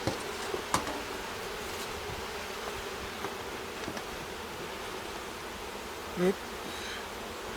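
Honeybees buzzing around an open hive during a spring inspection, with a soft, steady hum of a few insects nearby, occasional knocks and handling noises, and one short spoken word near the start.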